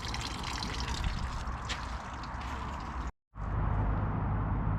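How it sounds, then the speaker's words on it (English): Continuous broadband rush of water trickling and splashing nearby as it runs off an old Toyota Prius, briefly cutting out before resuming just as loud. "at least the water is now running off"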